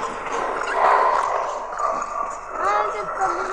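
A dog gives a few brief whining yips amid people chatting loudly nearby, its high, wavering cries rising between and beneath the voices.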